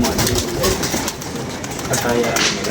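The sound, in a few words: pigeon cooing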